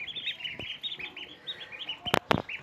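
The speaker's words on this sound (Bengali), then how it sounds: "এই যে হাঁসের বাচ্চাগুলো নিয়ে আসছিলাম," Young machine-hatched ducklings, grown fairly large, keep up a stream of high, rapid peeps close by, with a couple of sharp knocks and flaps near the end.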